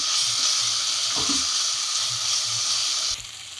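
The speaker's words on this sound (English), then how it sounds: "Continue frying this until the raw smell goes off from the ginger garlic paste" Steady, loud sizzling of ginger garlic paste frying in a hot pan, close up, with a soft stirring scrape partway through.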